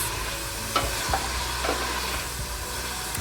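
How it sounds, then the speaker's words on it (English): Leeks softening in a pan for a spinach and potato curry, a steady close sizzle with a few faint stirring scrapes and no talk. "I'm just going to soften the leeks"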